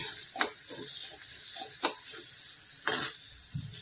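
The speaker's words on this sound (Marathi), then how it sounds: "त्याबरोबर आता खोबरं छान असं परतून घ्यायचं" Grated coconut sautéed in oil in a pan gives a quiet, steady sizzle, with a few soft scraping stirs scattered through the short stretch and no talk.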